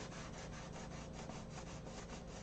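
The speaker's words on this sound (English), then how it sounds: "This is where the real sanding comes in, actually." Steady rhythmic rubbing of sandpaper on a hard clear-coat finish, repeated back-and-forth strokes at an even pace, close and fairly quiet.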